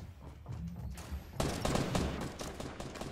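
Gunfire in Fortnite Battle Royale, bursts of rapid shots crackle and echo, quieter at first and then louder and denser, with no talk over them.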